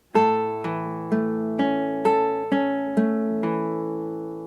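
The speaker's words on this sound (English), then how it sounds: "it's just a basic A bar chord" A basic A bar chord on a classical guitar is strummed about seven times in a steady rhythm, each one ringing out close and clear before the next.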